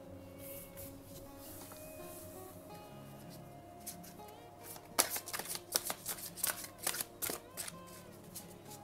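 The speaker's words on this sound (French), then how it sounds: "Donc, nous allons tirer une carte." Oracle cards of ascended masters shuffled by hand: a soft riffling rustle at first, then from about five seconds a run of sharp, close card flicks and snaps as cards are shuffled and drawn, with no talk.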